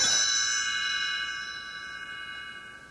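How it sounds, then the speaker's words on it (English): A single bright chime rings out as a page-turn signal on a 1987 Disney read-along recording about telling time, a clear metallic tone with sustained overtones that slowly fades over about three seconds. "You will know it is time to turn the page when you hear the chimes ring like this."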